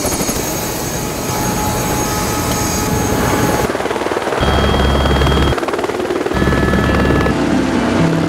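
A tour helicopter flies near Mount Cook toward the Tasman Glacier in New Zealand's Southern Alps, its steady loud rotor and engine drone filling the cabin and pulsing with a low throb throughout, with no talk.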